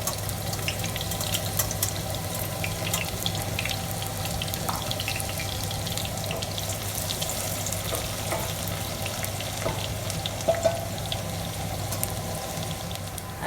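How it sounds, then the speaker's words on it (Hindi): Sliced onions fry in a generous amount of oil for biryani, giving a steady, even sizzling hiss that holds at moderate loudness with no voices over it. "मैं इसमें ऑयल डालूँगी, और ऑयल इतना हो कि प्याज जो है वो अच्छी तरह से इसमें फ्राई हो जाए"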